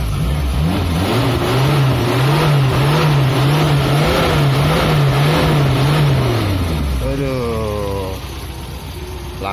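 A 1990 Suzuki Katana's engine revs during a test, loud and close, with a rising and falling throttle pattern before it drops back to idle.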